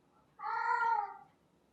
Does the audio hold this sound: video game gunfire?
no